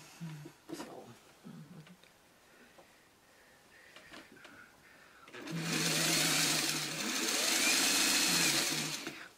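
Domestic sewing machine stitching precut quilt block strips for a charity quilt, a steady close whirring run of several seconds after quieter handling of fabric.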